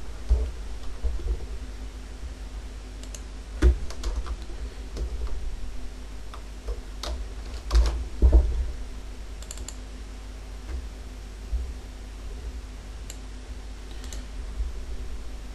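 Sparse, irregular typing on a computer keyboard, with separate clicks and a few sharper key strikes over a faint steady hum. No one speaks.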